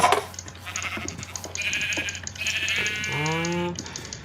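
A Minecraft sheep bleats once, a wavering call near the end, amid clicks and faint background chatter and rustling sounds.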